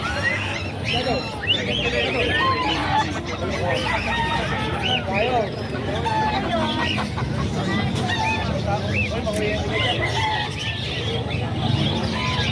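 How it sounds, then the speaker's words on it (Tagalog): Chickens and roosters in a bird-keeping yard, clucking and calling in a dense, steady chorus of overlapping bird sounds, with people talking and background chatter mixed throughout. "Puro manok."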